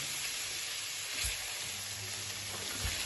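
Noodles frying in a pan for a chicken stir-fry, giving a steady broadband sizzle with faint low thumps, no voices.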